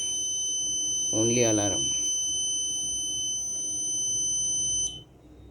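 A parking gate's wrong-card alarm rings a steady high-pitched electronic tone continuously, with a brief warbling buzz partway through and a low hum underneath, stopping abruptly near the end.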